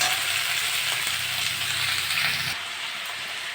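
Long beans and potatoes frying in a pan: a steady, close hiss of oil with faint scraping stirs and small rattles, dropping slightly softer near the end, no one talking.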